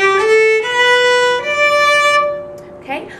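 A single violin plays a short passage from the beginner piece Frog in a Tree, measure 14: a few sustained, bowed notes stepping between pitches, close and clear, alone before the last note fades.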